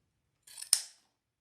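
A single close, crisp snip of scissors cutting ribbon for a watercolor bunny wreath, brief and isolated in otherwise silent surroundings.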